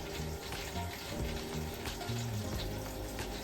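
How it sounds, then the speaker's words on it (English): Water spurting and sputtering from an RV toilet as air pockets clear the lines during dewinterizing, an uneven hissing splash with irregular bursts, moderately close. "Little air pockets to make it spurt like that"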